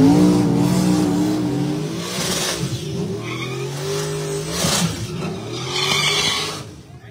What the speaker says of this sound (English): I'm just gonna let them do their burnouts.